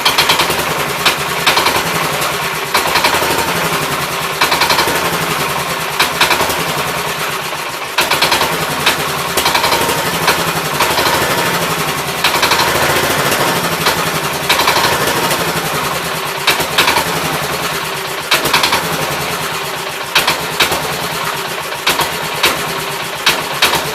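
A 1969 Gravely 432 tractor engine runs loud and close with a rapid, rough, repetitive knocking beat that continues steadily throughout.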